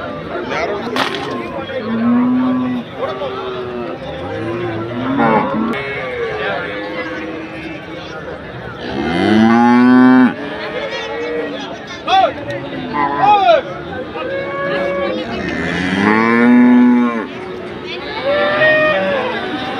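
Cattle lowing at a busy Saturday cow market in Anthiyur, rising moos standing out above a dense crowd babble and frequent nearby talk, with sharp cracks now and then.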